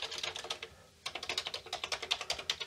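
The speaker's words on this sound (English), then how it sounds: "Let's test the keyboard." Typing on a Commodore VIC-20 keyboard, quick close clacking keystrokes in a fast irregular rhythm with a brief pause near the middle, fairly quiet and with no talking.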